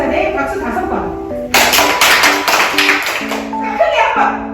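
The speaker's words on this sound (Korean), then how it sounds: "예수님이 가라사대 박수 5번" Children clap in a quick burst of about five sharp claps during a church school game, heard over background music and voices.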